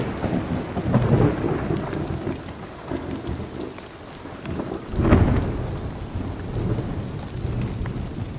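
A steady downpour with rumbling thunder, including a heavier roll midway, sustained and fairly loud throughout with no voices.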